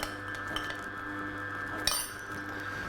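A metal spoon stirring chilli hummus in a bowl, soft repeated clinks and scrapes against the dish with one brighter knock, close and fairly quiet with no talking.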